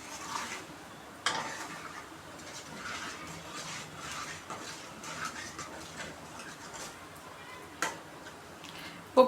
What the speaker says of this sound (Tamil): இப்போ கரண்டி வச்சு நல்லா கிளறி விட்டாச்சு.